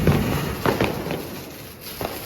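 Diwali firecrackers burst during a family celebration, a few sharp pops and crackles standing out over a dense, continuous noisy background.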